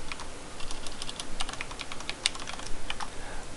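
Rapid, uneven clicking of keys on a computer keyboard as a password is entered, close and crisp with no one talking.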